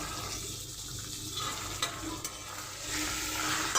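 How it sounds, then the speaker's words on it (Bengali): Chicken pieces are stirred and fried with ginger, garlic and salt in a pan, giving a continuous close sizzle broken by a few scraping clacks of the spoon, with no talk. "এবার আদা রসুনের সাথে ভালোভাবে নেড়ে নেব লবণ দিয়ে একটু ভাজা ভাজা করে নেব"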